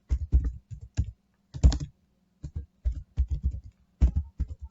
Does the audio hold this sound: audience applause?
no